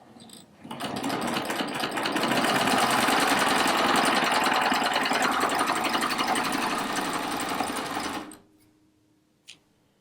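A sewing machine doing a double cover stitch with metallic thread runs steadily and loudly for about eight seconds with a fast, even mechanical whir, then stops, followed by a single small click.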